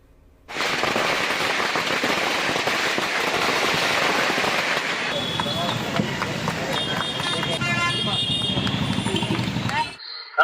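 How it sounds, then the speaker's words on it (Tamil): Firecrackers bursting at a celebration held by a welfare association for people with disabilities, a dense continuous crackle of rapid pops lasting several seconds, loud and near, with crowd noise mixed in. "பட்டாசு வெடித்தும் கொண்டாடினர்"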